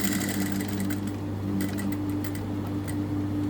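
A sewing machine runs steadily, stitching fabric for a chain attachment, with a constant low mechanical hum and a light rapid ticking, close and alone with no talk.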